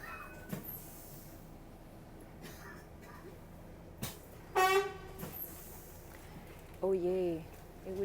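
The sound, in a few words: car horns honking in Paris traffic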